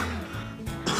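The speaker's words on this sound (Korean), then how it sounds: "기침이 멈추지 않네요" A single short cough from a person with a cold, close and fairly quiet, followed by a brief noisy breath, with no talk over it.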